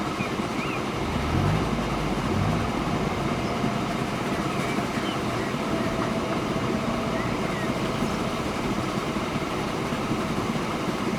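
Trains in the Transport Fever video game roll along with a steady, even rumble and faint clatter, a constant mid-level wash of rail noise with no break.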